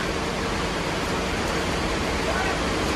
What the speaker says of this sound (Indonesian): Tuh, hujannya makin deres